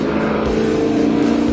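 A 1967 Fastback muscle car's V8 engine pulls hard under heavy throttle, a loud, steady, close-up roar with strong low harmonic bands and no talking.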